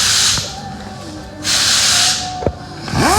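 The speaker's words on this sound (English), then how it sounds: "Got an old piece of 220 on the sander out of the old sandpaper box" A power sander fitted with worn 220-grit sandpaper works over bondo in bursts of hissing, abrasive whirring. Two loud passes are separated by quieter gaps, with a few clicks and knocks between them.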